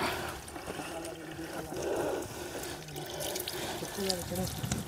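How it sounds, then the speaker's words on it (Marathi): Cold stream water flows steadily on a night trek up Kalsubai, Maharashtra's highest peak, a continuous close gurgle and trickle with people talking over it. "वाहता पाणी आहे त्यामुळे हातपाय धुवू शकता"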